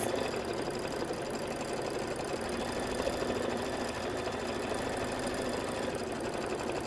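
A sewing machine sews quilting stitches, a continuous close whirring of rapid, regular needle strokes that holds steady throughout without pause.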